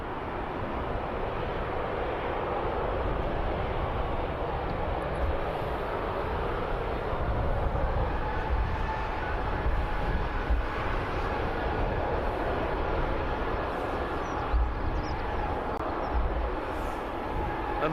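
A KLM airliner from Amsterdam at Birmingham Airport produces a steady, broad roar of jet engines that holds at a constant, fairly loud level for the whole stretch, with no talking.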